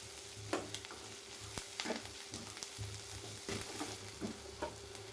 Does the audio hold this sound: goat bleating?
no